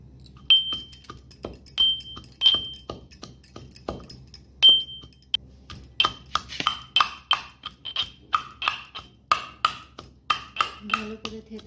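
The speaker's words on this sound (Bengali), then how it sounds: "এবার গ্রেভির জন্য আমি আদা রসুনকে থেতো করে নেব।" Ginger and garlic crushed for a paneer gravy, heard as a series of sharp, close clinking and tapping strikes, some ringing, settling into a steadier rhythmic pounding toward the end.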